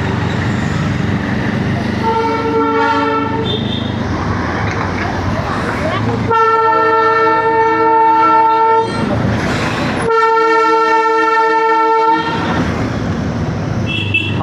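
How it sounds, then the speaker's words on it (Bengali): A Darjeeling Himalayan Railway toy train at Ghum station sounds its horn in two long, loud toots, each holding a steady multi-tone chord, over busy traffic and street noise. Voices murmur in the background. "সামনেই দাঁড়িয়ে রয়েছে টয় ট্রেন"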